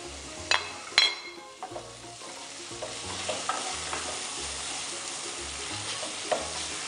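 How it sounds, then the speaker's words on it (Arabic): Browned onion frying with spices in a pan, a constant sizzle broken by sharp clinks and knocks of a utensil stirring and scraping, with a low rhythmic hum underneath. "دونك بعد ما تشحرت لنا البصله ديالنا غادي نزيدوا عليها لادانت"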